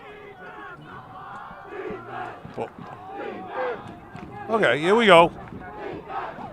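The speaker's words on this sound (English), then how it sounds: "We got a hepped-up Revere squad cheering for their defense." Revere High School football fans roar and chant for their defense during a game, a loud crowd burst rising above steady stadium murmur while an announcer talks throughout.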